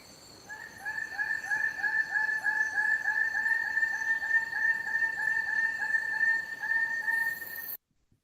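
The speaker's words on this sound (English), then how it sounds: "The Ragiana bird of paradise, the king bird of paradise." Raggiana and king birds of paradise calling in Papuan forest: a fast, steady series of loud, ringing repeated notes running for about seven seconds over a constant insect hum, then cutting off.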